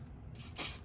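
A can of hairspray gives a short hiss over flocked model trees, then a second, louder burst, close and brief, with quiet room tone around it.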